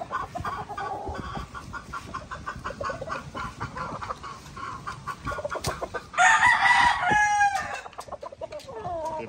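Young cockerels and chicks in a pen cluck and chatter steadily, then one cockerel lets out a loud, close, strained crow midway before the flock's clucking resumes.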